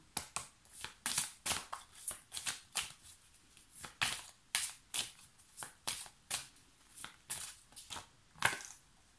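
A deck of oracle cards from the Béline oracle is shuffled by hand, each shuffle a quiet, close, papery riffle repeating in a quick steady rhythm with no voices.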